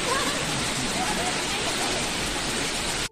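Steady broadband rush of the Heramb waterfall in the Konkan, cold water pouring continuously at close range, a dense unbroken wash of flowing water with no pauses.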